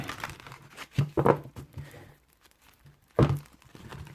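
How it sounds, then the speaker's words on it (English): Stiff, thick tarot cards are shuffled in a few rough, papery bursts with soft thumps, separated by brief pauses. "Man, these cards are hard to shuffle today."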